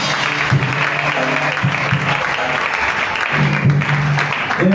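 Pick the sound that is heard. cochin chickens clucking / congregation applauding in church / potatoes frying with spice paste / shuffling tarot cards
congregation applauding in church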